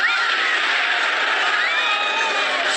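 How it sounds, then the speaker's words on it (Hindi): A dense crowd surges into a mansion through freshly opened gates, a steady roar of many excited, shouting voices, loud and unbroken throughout. "द्वार खुलते ही भीड़ हवेली के अंदर"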